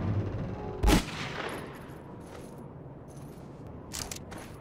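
Gunfire in the video game Conflict: Denied Ops, with one loud sharp shot and then fainter, scattered distant reports over a rumbling battle background.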